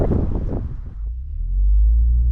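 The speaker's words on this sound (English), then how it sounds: "You can definitely hear the engine. It's a lot more throaty in this setup with the different exhaust" A Subaru WRX GT with an aftermarket exhaust being driven, a brief mid-toned engine burst giving way to a deep, throaty rumble that swells and holds loud.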